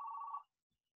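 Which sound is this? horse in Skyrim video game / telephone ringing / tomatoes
telephone ringing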